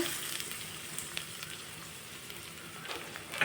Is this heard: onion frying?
yes